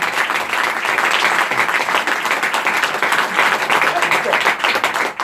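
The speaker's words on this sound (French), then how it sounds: "je voudrais qu'on les applaudisse une nouvelle fois, Ben et Slane." A radio studio audience gives loud, sustained applause, many hands clapping in a dense continuous burst with occasional cheers, staying close and strong until a brief dip at the end.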